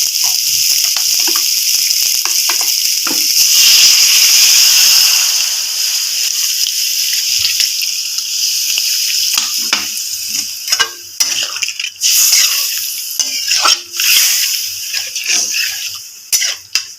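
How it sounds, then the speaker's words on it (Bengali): Water poured into a hot pan of well-fried spiced egg curry, giving a sustained broad sizzle and hiss that stays loud at first, then settles into steady bubbling with small clicks and pops. "এখন আমি এটাতে জল দিয়ে দেব।"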